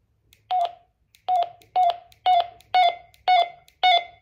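A Baofeng MP25 FRS handheld radio gives seven short electronic beeps, evenly spaced about half a second apart, as its volume is stepped, clear and close with nothing else around them.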